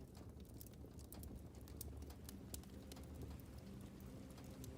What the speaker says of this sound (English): Oh, there's like rain sounds as well.